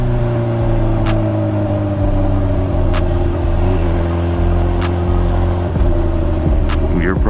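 A 2006 GoPro 1000 motorcycle fitted with a 300-size rear tire rides steadily, its engine droning loud and close with a constant low hum and wind noise throughout, no one speaking.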